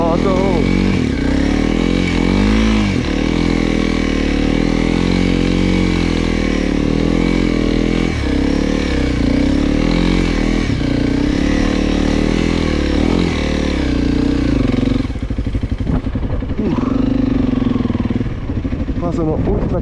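Honda CRF300L motorcycle engine revving hard in snow, loud and continuous with rising and falling revs close by, voices shouting over it.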